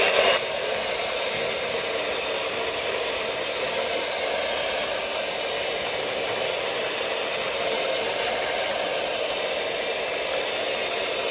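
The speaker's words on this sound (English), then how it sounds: "keep blending it until I get the majority of them out" A kitchen blender purees sweet potatoes for pie filling, giving a steady, loud whirring roar that holds unbroken for about eleven seconds with no voices over it.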